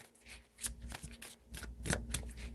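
Tarot cards are shuffled close by in quick, crisp riffling bursts, several flutters in a row with short pauses between them, soft and alone.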